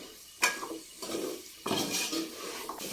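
Bilimbi pickle being stirred in a pan, with a utensil scraping and clinking against the metal in three distinct bursts over a soft background sizzle; close and fairly loud, no voices.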